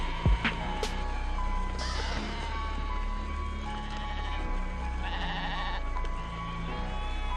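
Sheep bleat a few times over a steady background hum, the calls wavering and moderately close.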